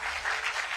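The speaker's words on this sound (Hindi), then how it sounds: "जोरदार तालियां हो इसके लिए जरा।" Audience applause at a live on-stage conclave event: a brief, dense wash of many hands clapping together, steady and fairly loud throughout with no voices standing out.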